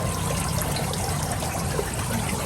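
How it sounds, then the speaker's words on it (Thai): Water flows and circulates steadily through a tilapia hatchery nursery tank at a fisheries breeding station, a constant close gushing trickle with no pauses. "โอ้น้ำหมุนเวียนครับนี่ครับให้น้ำไหลหมุนเวียนนะครับ"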